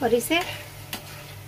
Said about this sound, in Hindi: और इसे चलाएंगे